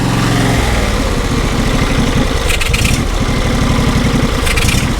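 A John Deere SST16 zero turn lawn mower engine runs for the first time in about five years with a badly adjusted carburetor, loud and close with an uneven, lumpy idle throughout.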